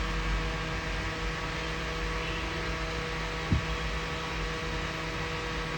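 A 12 volt table fan running at reduced current on 3.6 volts and 2 amperes gives off a steady low motor hum with a constant whir, close and unchanging, with one brief soft knock partway through.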